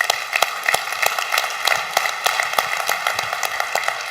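A conference audience at the RetailNOW 2017 general session gives a steady round of applause, a dense patter of hand claps with sharper individual claps standing out, moderately loud throughout.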